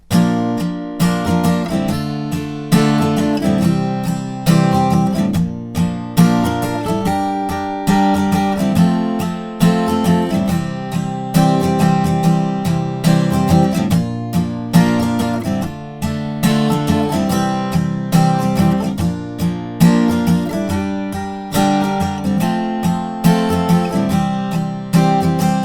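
Final chorus of a song strummed on acoustic guitar with a capo, a full, steady chord rhythm running loud and continuous throughout with no voices.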